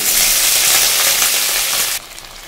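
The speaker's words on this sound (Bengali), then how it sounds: "আমি পটল ভাজা বসিয়ে দিয়েছি।" Pointed gourd (potol) frying in a pan with cumin seeds in hot oil, a steady loud sizzle that runs for about two seconds, then drops sharply to a quieter hiss.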